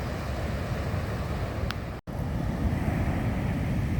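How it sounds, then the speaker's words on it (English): Big ocean waves rolling in after continuous winter storms on a bright coastal day: a steady, broad roar of surf and wind fills the whole stretch, with a brief dropout midway and no talk. "Still some big waves out there coming."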